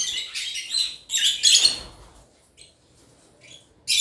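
High, sharp chirps from a group of caged African lovebirds come in a loud opening flurry, then thin out to scattered faint calls before a final burst, heard close with no talking.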